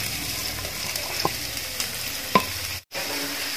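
Chopped onions sautéing in hot oil in a pan, a steady low sizzle with a few soft clicks of stirring, no voices.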